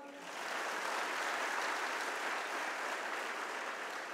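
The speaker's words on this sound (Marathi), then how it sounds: "टाळ्या जोरदार वाजवा." Steady applause from an audience at a Guru Purnima speech gathering in Sangamner, rising within the first half second and holding as a dense, even wash of clapping to the end.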